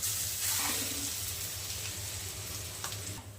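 Grated sweet potato sizzles steadily in a hot pan, a continuous close frying hiss with faint stirring clicks and no talking.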